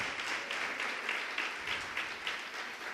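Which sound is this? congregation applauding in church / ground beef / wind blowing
congregation applauding in church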